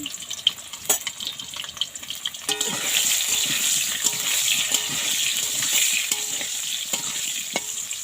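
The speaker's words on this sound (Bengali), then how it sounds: "আলুগুলো একটু ভাজা ভাজা হয়ে আসুক।" Potato pieces with salt and turmeric fry in a pan, a soft sizzle rising and growing steadier while a utensil stirs and scrapes with sharp knocks and clinks close by.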